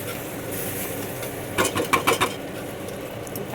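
Water hits a hot, spluttering cooking pan, giving a short burst of sharp crackles and hisses against a quiet kitchen background.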